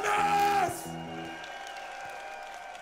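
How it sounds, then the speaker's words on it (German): Concert crowd at a metal festival gives brief applause and cheers for an accordion player, loud at first over sustained instrument tones, then fading quickly into a quieter hall hum. "Ein Applaus"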